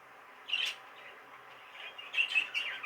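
A young opaline budgerigar gives a few short, high chirps, one early and a quick cluster near the end, fairly close against a quiet room.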